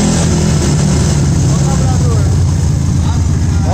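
A Honda Titan 150 motorcycle engine bored out to 266cc runs loud and close, its rough, steady roar filling the whole span.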